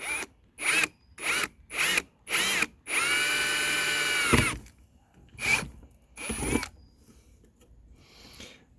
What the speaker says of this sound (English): So now here I'm going to drill through this aluminum